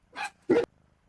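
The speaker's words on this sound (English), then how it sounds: "You barked at that dog for no reason." A dog in the survival game Vintage Story gives two short, sharp barks in quick succession, close by, followed by quiet.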